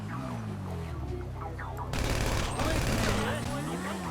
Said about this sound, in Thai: ต้องยิงต้องยิงต้องยิง